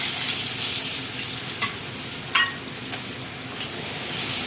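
Slit green chilies and onion fry in hot oil for khichuri, giving a steady loud sizzle with a few light clinks of a utensil against the pan.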